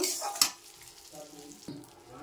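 Low sizzling of shahi garam masala frying in a hot pan, with a sharp clatter near the start and a second scrape later, like spices being stirred as they fry.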